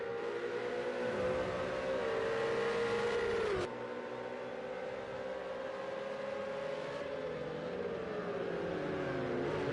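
Racing cars, a Ferrari among them, scream around the Red Bull Ring in a Project CARS 2 sprint race, with steady high engine drone and pitch sweeping through gear changes, loud and continuous with no talk.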